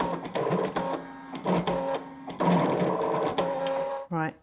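A ScanNCut cutting machine draws with a black pen in its pen holder, giving a close, steady mechanical whir in short stop-start bursts that rise and fall rhythmically, ending with a brief higher whine.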